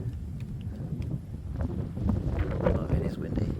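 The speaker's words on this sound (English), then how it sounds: "Oh, it is windy." Strong wind gusts across the microphone at the hilltop Mount Nelson Signal Station lookout in Hobart, a loud, rough, continuous rumble that builds toward the end while a person speaks over it.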